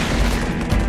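In the strategy video game Halo Wars, a tank fires on a target, making a short loud booming blast with a heavy low rumble, over almost at once.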